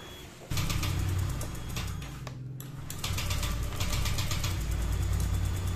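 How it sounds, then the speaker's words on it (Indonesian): A Honda Vario 125 scooter engine running rough and stuttering, a steady close mechanical idle with uneven pulses and a brief dip before it picks up again, alone. "ini hidup bro, tapi hidupnya itu kayak nyendal-nyendal ya"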